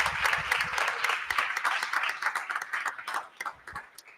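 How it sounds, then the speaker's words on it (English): An audience at a school committee meeting claps in a sustained round of applause that gradually thins out toward the end. "So let's give them all a round of applause."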